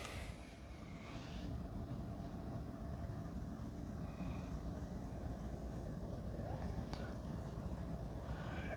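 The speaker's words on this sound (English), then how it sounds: "So as the engine warms up and brings up the heat" Engine idling steadily as it warms up, with fluid circulating through a heat exchanger: a continuous low rumbling drone that holds even throughout, fairly quiet and unbroken.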